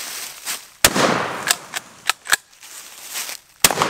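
Pistols fire outdoors in a run of sharp, loud cracks, several spaced shots with echoing tails, close to the listener.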